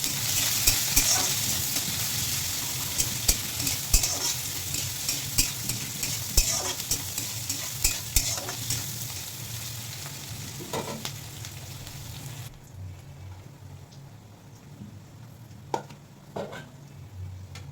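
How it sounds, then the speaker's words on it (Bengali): Chopped onions and black cumin sizzle and fry in hot oil in a pan, a steady hiss broken by frequent stirring clinks and scrapes, with the frying quieting somewhat toward the end. "দেখো বন্ধুরা পেঁয়াজটা ব্রাউন কালার ভাজা হয়ে গেছে"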